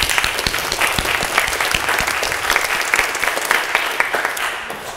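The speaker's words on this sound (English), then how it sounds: "And I think firstly we should give a round of applause for all that." A church congregation at a harvest service gives a steady round of applause, dense overlapping claps filling the space evenly for the whole stretch without any talk.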